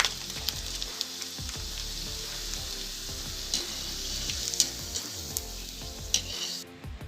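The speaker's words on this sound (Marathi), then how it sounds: "अशा प्रकारे आपली चकली तळून किती फुलली" Sabudana potato chakli deep-frying in oil, a continuous bubbling sizzle with repeated low thumps and scrapes of handling, close and steady, no talk.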